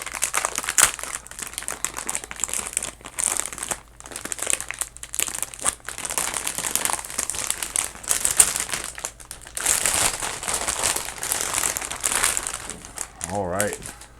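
Foam packing from an EVGA GTX 1660 Ti XC Black graphics card box crinkles and rustles up close in steady bursts throughout, with someone talking over it now and then.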